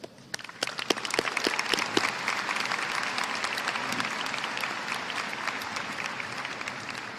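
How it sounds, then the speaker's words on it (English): Audience applause at a high school graduation ceremony, sustained dense clapping from a large crowd that builds quickly and continues evenly throughout, reverberant and fairly distant. "Please join me in a round of applause for these incredible individuals who have nurtured your dreams and guided your steps."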